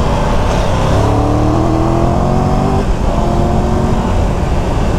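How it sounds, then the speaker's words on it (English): A Triumph Tiger 1200 GT motorcycle accelerating on the road, its engine note rising steadily in pitch, then dipping briefly before climbing again, loud and close with constant wind rush. "with a flick of a throttle in the road mode itself, it just opens up and goes"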